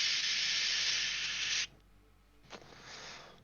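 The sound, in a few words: spray gun spraying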